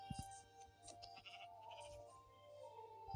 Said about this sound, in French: Ok, mouton.